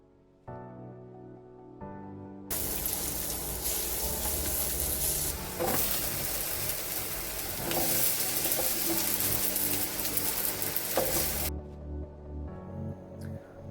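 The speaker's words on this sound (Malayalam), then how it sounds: "ചക്കയും നേന്ത്രപ്പഴവും നന്നായി മിക്സ് ചെയ്ത് ഇളക്കുക" Jackfruit and plantain sizzling in butter in a frying pan as they are stirred, a loud, dense crackle that swells abruptly and holds steady before dropping back to quieter frying at the end.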